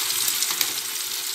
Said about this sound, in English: I like to fry my tomato.